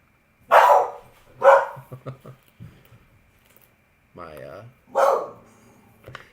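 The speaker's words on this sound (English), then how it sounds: "My dog Noelle either heard something or saw something outside" A dog barks at something outside, giving three loud, sharp barks close by. Someone speaks briefly between them.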